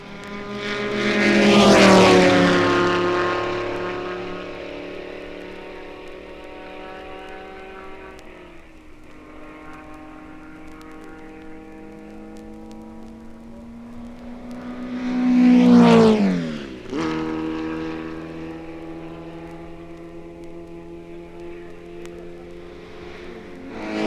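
Race cars at the 1964 Le Mans race roar past one at a time, each engine rising loud as it nears and dropping in pitch as it speeds away, with a sustained whine between passes.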